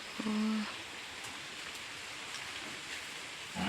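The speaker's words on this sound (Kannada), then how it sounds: "ಮಳೆ ಬರ್ತಾನೆ ಉಂಟು, ಜೋರಾಯ್ತು ಮಳೆ." Rain falls steadily in a broad, even hiss, with a short tonal hum near the start and a few faint knocks, heard alone without speech.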